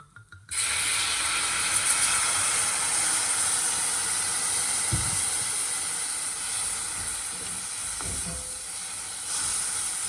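White wine hits hot rice in a pan over a high gas flame for risotto with dried porcini, setting off a loud, steady sizzle and steamy hiss that holds for the whole stretch, with a few stirring knocks.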